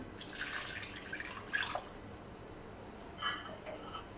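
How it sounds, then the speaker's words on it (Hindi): Water splashes and pours in two short bursts into a pot of beef masala with tomatoes and spices, close and soft, with quiet gaps between. "अब 1 गिलास पानी डालेंगे"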